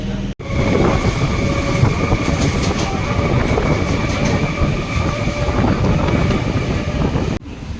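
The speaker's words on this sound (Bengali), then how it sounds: "কাজীপাড়া থেকে ট্রেন ছেড়ে দিল" A local train on the Basirhat to Sealdah line rolls steadily from start to near the end, a loud continuous rumble with rail clatter and wind buffeting close to the microphone, cutting off briefly near the end; no talking.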